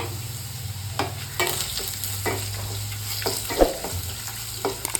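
Gooseberries fry in oil in a pan, a steady close sizzle with irregular scrapes and taps of a spoon turning them, one sharper clack standing out toward the end, under a low background hum.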